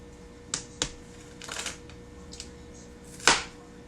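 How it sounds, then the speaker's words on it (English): Knife chopping an onion on a board for beef and vegetable soup, a handful of sparse, sharp cuts spaced irregularly, fairly quiet and close, with no speech. "Now I'm going to chop up this onion."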